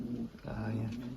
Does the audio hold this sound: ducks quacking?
no